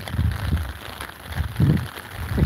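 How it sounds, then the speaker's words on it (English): Rain pours down during a storm chase, a dense steady patter with low rumbling gusts, close and fairly loud, no one speaking. "It just turned the whole thing to rain instead."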